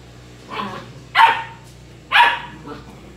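A small puppy gives three short, high yips, a soft one followed by two sharper barks, fairly close by.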